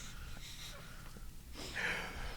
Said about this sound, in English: you're sniffling all over the place